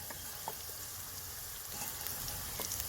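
Onion, six or seven garlic cloves, a piece of ginger and four or five green chillies fry in a pan with a dense, steady sizzle and a few faint stirring clicks.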